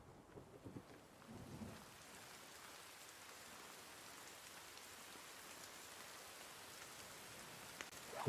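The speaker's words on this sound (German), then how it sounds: "Ah, geil, jetzt regnet es wieder." Steady rain pours down in the survival game The Forest, a continuous broadband hiss of falling drops with a brief louder patter near the start and no one talking.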